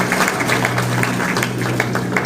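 Applause at a college golden jubilee book launch ceremony in Kanpur, a dense steady crowd clapping that stays loud and fairly close through the short stretch.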